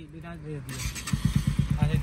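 Someone talks at first, then a Bajaj Pulsar NS 125 motorcycle with a fitted aftermarket exhaust sends out a quick, even run of loud, close, throbbing exhaust pulses.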